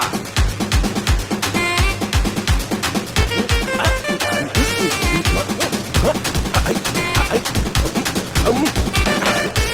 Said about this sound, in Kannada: ಹಚ್ರ ಪಟಾಕಿ.